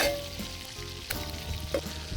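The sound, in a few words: French toast frying in a pan at a campsite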